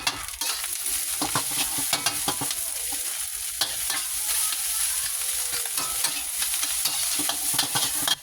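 Rice being stir-fried in a pan for Thai-style old-fashioned fried rice, with steady scraping and stirring strokes over a continuous sizzle, close and fairly loud, with no talking.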